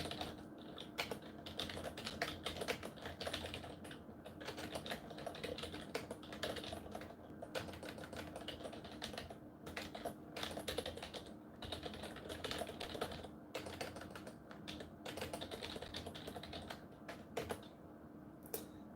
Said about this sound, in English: let me type this out